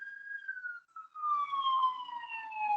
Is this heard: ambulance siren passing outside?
yes